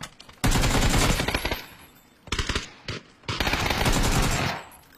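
Gunfire in a video game, with a pistol being fired: rapid bursts of sharp, loud shots in clusters, broken by short gaps, close and dominant.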